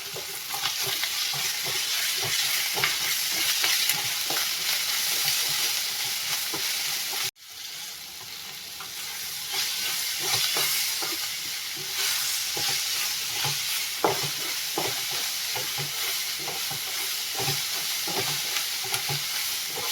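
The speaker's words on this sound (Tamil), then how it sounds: "ஒரு கொத்து கருவேப்பிலை, ஒரு கைப்பிடி அளவுக்கு கொத்தமல்லி, மீதியை இதில் சேர்த்துக்கணும். சேர்த்துட்டு இதை நல்லா வதக்கி விட்டுணும்." Curry leaves and coriander sauté for a guava chutney, a dense loud sizzle that runs throughout, with repeated stirring scrapes and a short break partway through, and no voices.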